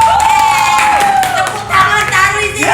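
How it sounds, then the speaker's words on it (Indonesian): Studio audience at an Indonesian family quiz show cheers and claps loudly in a steady burst, with children's shouts and bright voices mixed through the noisy crowd sound. "Tepuk tangan taruh di sini."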